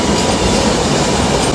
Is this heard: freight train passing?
yes